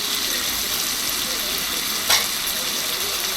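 Chicken gravy ingredients with tomato sautéing in a pan, a steady close sizzle with a brief louder splash of stirring midway.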